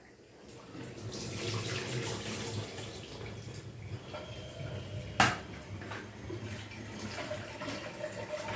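Tap water runs steadily over food being washed in a small basket at a kitchen sink, a soft continuous splash with a brief sharp clatter midway, fairly quiet and with no talking.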